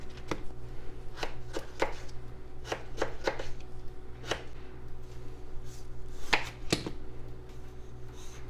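Potatoes being chopped with a knife on a cutting board for split pea soup, a steady series of sharp, close knife strikes in an uneven rhythm, with no talking.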